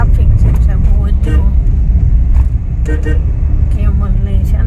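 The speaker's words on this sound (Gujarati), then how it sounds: "ટ્રાફિક છે બહુ જ." Dense road traffic in Kutch, slowed by herds of sheep and goats with camels among the vehicles, carries a steady, loud engine rumble from nearby cars and buses, with a voice talking over it throughout.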